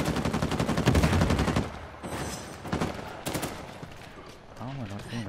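Rapid bursts of gunfire in the Uncharted 4 multiplayer video game, dense automatic fire at first then thinning into scattered shots, with game music and voices mixed in.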